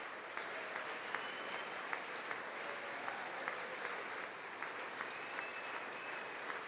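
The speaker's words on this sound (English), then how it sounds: "They be clapping for too fucking long" A chamber audience at a State of the Union address keeps up a long, steady roll of applause with a few sharper claps standing out, heard evenly and at a distance.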